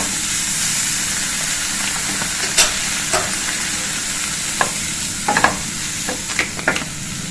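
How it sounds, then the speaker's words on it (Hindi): Spices and fresh coriander leaves fry in a pan for matar paneer, giving a steady close sizzle and hiss, with scattered scraping taps from a spoon stirring now and then. "देखिए सभी मसाले हमारे भुन गए हैं।"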